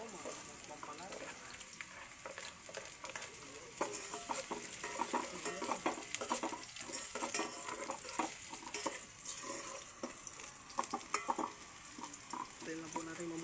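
Garlic being added to ginger and sizzling in a hot pan with oil, a steady close frying crackle with occasional stirring scrapes, heard alone throughout.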